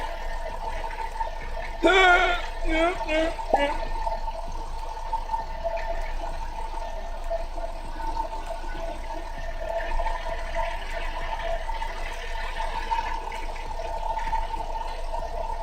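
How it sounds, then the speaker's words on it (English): Engine coolant drains from a car into a bucket with a brief gurgling splash at first, then settles into a steady, soft trickle of liquid pouring continuously. "I'm gonna empty this out into a little coolant bucket here."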